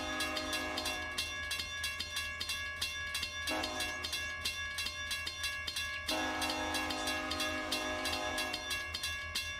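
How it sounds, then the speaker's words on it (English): A loud, sustained train whistle in a train simulator game blares in chords at a level crossing over steady rail rumble and clatter, dropping out briefly twice before resuming. "I'm only doing the whistle because the crossing's activated."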